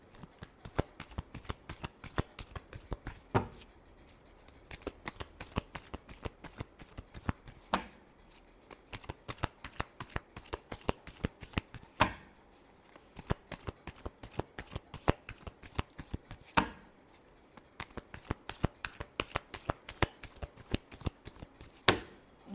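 Tarot cards are shuffled over and over in a steady run of close, crisp riffling snaps and soft paper slaps, with a few louder bursts and no speech over the sound.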